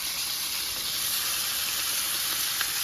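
A frozen, still-unthawed venison roast sears in a smoking hot pan, giving a steady, loud sizzling hiss that holds even throughout with no pauses and no voices.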